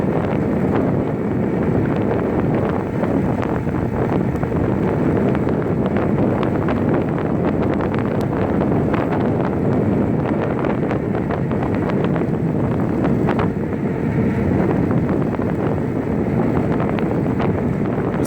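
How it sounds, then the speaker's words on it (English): Continuous broadband rolling rumble of e-bike wheels on a bumpy road, loud and steady, mixed with wind buffeting the microphone. "Most of the sound you hear are the wheels."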